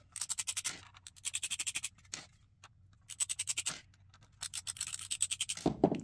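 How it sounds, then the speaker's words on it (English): A screwdriver backs screws out of a Seagate Backup Plus desktop drive enclosure, giving bursts of rapid close scratchy ratcheting clicks separated by quiet pauses, with a soft handling clunk at the end. "Now we're going to use a screwdriver to remove these screws."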